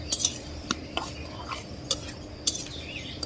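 Tomatoes sautéed with chili, turmeric, coriander and ginger-garlic paste, heard as quick metallic scrapes and clinks of a spoon in a pan over a low sizzle. Several short strokes come in an uneven rhythm, close up, and no one talks.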